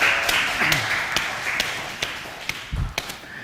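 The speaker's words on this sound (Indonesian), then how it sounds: "Wes, luar biasa, tepuk tangan dong." A few separate hand claps, sparse and irregular, sounding close by over a quiet room with some background hum, rather than full applause.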